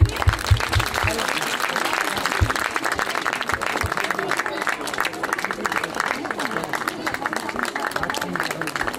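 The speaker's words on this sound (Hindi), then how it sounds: "जोरदार तालियां।" Loud, sustained applause from a large audience at a school annual function, a dense continuous roar of many hands with crowd murmur mixed in.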